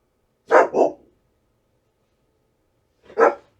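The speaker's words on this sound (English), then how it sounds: "You're not out here barking at birds." A dog barks twice in quick succession, then gives one more bark after a pause of a couple of seconds, fairly close and clear against a quiet background.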